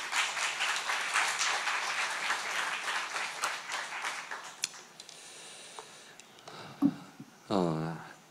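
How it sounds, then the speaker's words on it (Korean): An audience claps steadily in a hall to welcome a pastor to the lectern, the applause dense for several seconds and then thinning to scattered claps, followed by brief sounds near the microphone. "박수로 맞이합시다."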